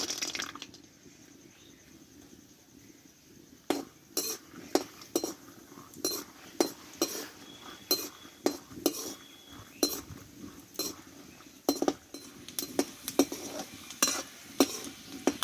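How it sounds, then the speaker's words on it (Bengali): Peanuts frying in mustard oil in a wok: a faint, low sizzle beneath frequent sharp scraping and clinking stir strokes that grow busier toward the end. "বাদামটা অল্প অল্প করে দেবো আর কিন্তু ভেজে নেব"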